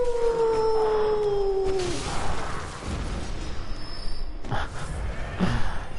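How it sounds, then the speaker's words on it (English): An enemy in the video game Bloodborne lets out a long, falling howl at the start, followed by rustling, thuds and scattered combat noises, moderately loud with no talking. "And he's howling."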